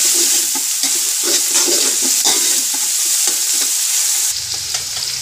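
Whole spices including cumin fry in hot oil for yakhni pulao with a loud, continuous sizzle, broken by repeated scraping strokes of a stirring spoon close by.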